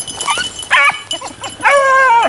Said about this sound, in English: There's the pup right there, and I just heard her squeal.